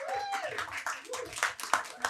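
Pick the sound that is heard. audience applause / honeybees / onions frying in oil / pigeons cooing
audience applause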